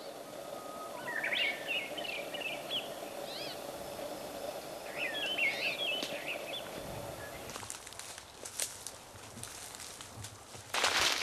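Birds chirp and trill in short, bright phrases in a pine forest on a remote island, fairly close and repeated for several seconds before fading, followed by rustling and scuffing footsteps.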